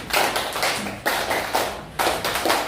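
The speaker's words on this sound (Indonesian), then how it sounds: "tepuk semangat 1." A group in a classroom claps a "tepuk semangat" spirit clap in three quick, even bursts of rapid hand claps, loud and close, each burst separated by a short pause, with no talking.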